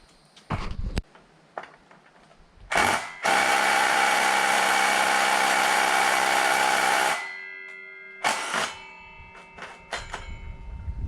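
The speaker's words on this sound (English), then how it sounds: "Still, I had to get my impact to break it loose." An impact driver works to break loose a stuck bolt with reversed threads during a pole barn house build. A few metallic clanks come first, then a loud, continuous rattling burst lasting about four seconds, followed by more clanks.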